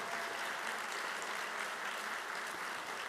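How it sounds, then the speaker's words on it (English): Steady, dense applause from an audience at a school district Teacher of the Year ceremony, continuous and even throughout a brief stretch with no voices. "Another big round of applause for Miss Brown."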